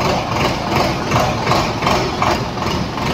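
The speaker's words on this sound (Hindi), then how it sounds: "एक बार स्टार्ट करिए संदीप भाई जी से।" A new double-DC tractor engine runs at a steady idle nearby, a loud low continuous rumble with faint rhythmic knocking throughout.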